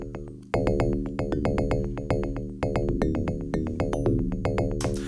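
Yamaha TX7 FM synthesizer Rhodes 1B electric piano preset, raw and unprocessed, playing a rhythmic sequence of bell-like chords, each note with a sharp attack and quick decay, moderately loud and alone.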